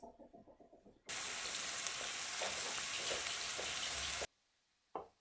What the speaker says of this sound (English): in the exact same pan that you just took the beef out of, we're going to add our sliced onions.